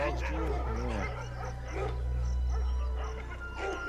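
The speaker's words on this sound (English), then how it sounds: "The barking dogs have caught our attention." Several dogs bark and yip in agitation at a camera-trap spot in a small valley in Mumbai's urban forest, with leopards around, the barks loud and nearby amid steady background hum and some talk.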